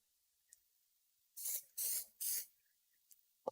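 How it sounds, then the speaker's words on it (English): Three short, close bursts of aerosol spray from a can of Titebond instant glue accelerator, each a sharp hiss of about a third of a second, with faint small clicks in the quiet before and after. "Now, I have this Titebond instant accelerator."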